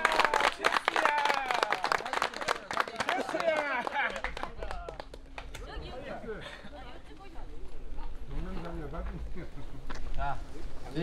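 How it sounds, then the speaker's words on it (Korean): Crowd clapping for the winner of a snakehead lure-fishing tournament, a brief burst of applause at the start that gives way to outdoor chatter and overlapping voices. "박수 한번 주세요."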